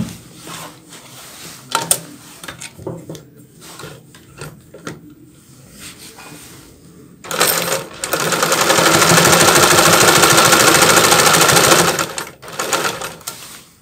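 A small sewing machine stitches a buttonhole in fabric, its rapid, steady whirring running loud for about four seconds after quieter rubbing and handling sounds.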